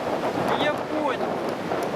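Strong wind buffets the microphone beside rough water with big waves at a lake fishing spot, a steady loud roaring rush with short gusts.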